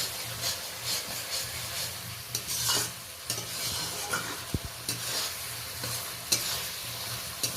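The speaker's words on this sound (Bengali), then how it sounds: "এই দেখুন মশলাটা ভালোভাবে আমার কষানো হয়ে গেছে।" Spice masala for a catla fish head dish is stirred and fried in a pan, irregular scraping strokes of a spatula against the metal over a continuous close sizzle, with occasional sharper knocks.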